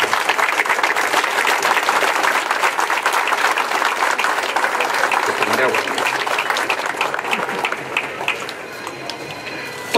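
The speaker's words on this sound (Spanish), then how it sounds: "claro que sí, un aplauso para todos ellos." Loud, sustained applause from an audience honouring health workers at a memorial inauguration by a flag monument, dense clapping filling the whole stretch and easing slightly toward the end, with voices mixed in.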